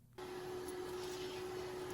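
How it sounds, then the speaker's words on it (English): A household vacuum cleaner switches on abruptly and keeps running as a steady, fairly loud drone with a constant whine, nearby and continuous, no voices over it. "Oh no, she's busy vacuuming."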